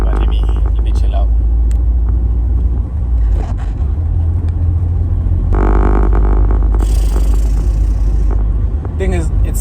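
A car engine runs loud and close during a drive, a heavy low rumble with rising and falling revs, while a person talks over it.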